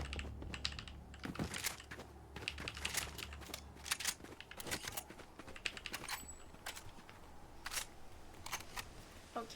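Rapid, uneven keystrokes clatter on a computer keyboard during a PC shooter game session, close and continuous with no talking, the key presses forming irregular clusters of sharp clicks.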